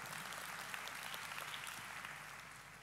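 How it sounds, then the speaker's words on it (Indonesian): Applause from a church congregation at a worship service comes as a faint, even wash of clapping, steady for about two and a half seconds and then tapering slightly, with no voices on top. "Berikan tepuk tangan yang meriah."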